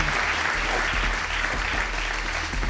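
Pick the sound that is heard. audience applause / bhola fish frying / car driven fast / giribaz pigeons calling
audience applause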